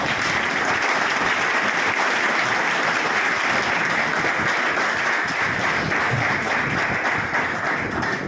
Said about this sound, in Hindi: एक बार फिर से जोरदार तालियों से एक बार धन्यवाद कर दीजिए